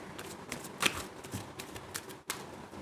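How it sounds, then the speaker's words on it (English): Tarot cards shuffled by hand in short soft riffling bursts, close and fairly quiet, with a louder slap near the end and no talking. "I am going to pull two more cards."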